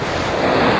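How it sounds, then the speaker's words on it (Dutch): Powerful ocean waves crash close by in a loud, brief surge of churning surf, with wind buffeting the microphone. "De kracht is insane van die golven."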